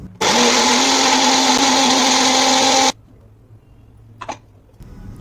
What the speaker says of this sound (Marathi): मस्त मिक्सरला ग्रेव्ही करून घ्यायची